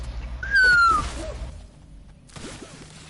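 A person whistles a single falling note, fairly loud and close, lasting about half a second, followed by soft rustling and background noise.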